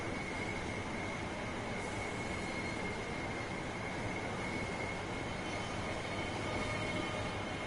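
Train departing in Train Simulator 3, a steady broad rumble of rolling wheels and carriages with a faint high squeal, continuous and even, without talk.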